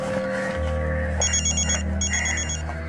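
Telephone ringing indoors in a dramatised crime scene, with two short bursts of bright electronic trills over a steady low hum, moderately loud and with no speech.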